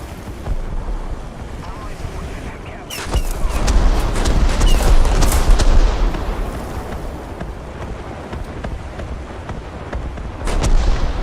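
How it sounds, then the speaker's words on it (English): An artillery barrage rumbles in the video game War Thunder, heavy booms and a sustained roaring wash swelling through the middle, with sharp cracks near the start and end. "Especially when the artillery barrages started falling"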